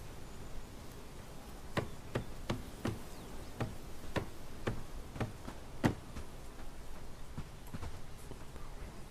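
Hammering during village hall construction in Bellwright, a medieval building game, comes as a steady series of about a dozen crisp, evenly spaced knocks over a low ambient bed.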